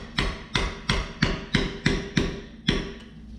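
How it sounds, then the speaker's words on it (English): A baby sledgehammer taps engine parts during a 12-valve engine build: eight close, sharp metallic blows in a steady rhythm, about three per second, with no talk. "Let's give these a little bit of a rough tap."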